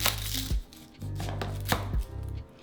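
Knife chopping through an onion on a cutting board, a few sharp close thuds in quick succession, with no talking.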